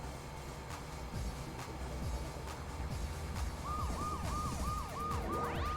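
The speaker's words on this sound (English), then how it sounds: "I forgot about what the police car has. If it plays the siren" Police car siren in the racing video game RC Revenge: a repeating rising-falling wail that starts partway through and cycles steadily several times over continuous engine and race noise.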